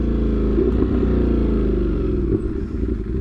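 A Kawasaki H2 motorcycle with an unrestricted exhaust gives a short burst of throttle in second gear, a close, loud, rumbling growl that eases off after a few seconds.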